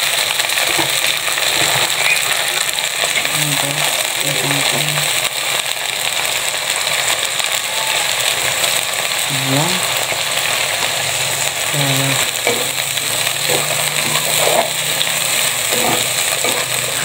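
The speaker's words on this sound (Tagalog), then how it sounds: "ilagay na natin guys si ating tangkay ng kangkong" Water spinach stems fry in a pan for a Filipino sautéed kangkong dish, a steady close sizzle and hiss with occasional clinks and scrapes of stirring.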